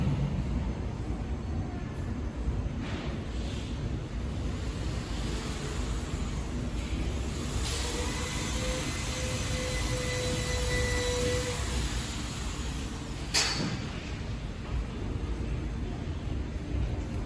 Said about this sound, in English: let me show you around our flow packing machine